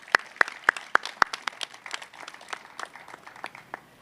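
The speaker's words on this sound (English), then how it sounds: "Would you give them a round of applause in absentia?" An audience at a city bridge replacement project announcement applauds: a few loud, close, distinct claps at first, then a lighter, scattered patter of clapping from the crowd.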